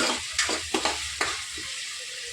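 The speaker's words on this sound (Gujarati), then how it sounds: "આદુ અને લસણની પેસ્ટ નાખી દઈશું।" Ginger-garlic paste hits a hot, oily pan for pav bhaji and sizzles loudly and continuously. A few soft stirring knocks sit near the start, and no one speaks.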